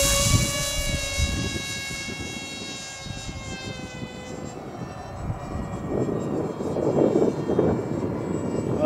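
Whining buzz of a small propeller-driven concept model airplane, the FF-Demon, flying in light wind. The pitch steadily drifts and the sound stays moderately loud throughout, with wind rumble and no talking.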